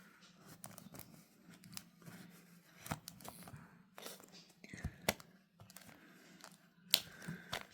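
Scissors cut open the packaging of a USB Type-C charging data adapter with sharp snips and crinkling plastic, close by, while people speak softly in between.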